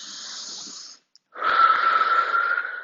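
During a yoga wrist warm-up hold, one long hissing exhale is followed by a short pause and then another strong, airy breath, close and fairly loud, with no talking.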